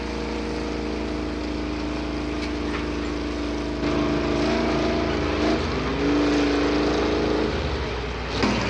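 A Dodge truck in the four-wheel-drive class at a truck and tractor pull drones loudly and steadily throughout, its engine note swelling and climbing in pitch partway through as it strains down the track.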